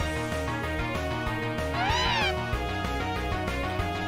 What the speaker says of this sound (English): it sounds like a cat Pokemon.